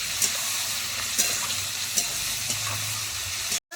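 Masala for a light mutton curry, seasoned with a little sugar and turmeric, fries in a pan with a constant close hiss. Occasional soft scrapes of stirring break through, and no one speaks before it cuts off abruptly.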